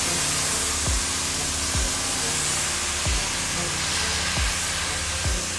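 Snow foam lance on a garden hose spraying water in hose mode, a continuous close hiss of spray with periodic low thumps.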